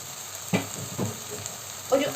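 Coriander powder sizzles softly in hot oil with ginger and garlic for an eggplant curry, a steady faint hiss broken by a few light stirring knocks.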